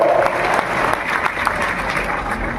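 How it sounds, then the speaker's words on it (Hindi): Loud audience applause at a public gathering, thick sustained clapping from a large crowd that fades slightly toward the end. "हाँ, ताली बजाओ"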